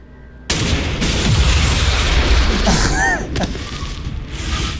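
In XCOM 2: War of the Chosen, a sudden loud explosion bursts in after a quiet start, followed by a sustained roaring, crackling blast tail, a couple of sharp tonal whistles and a further thud as the noise settles.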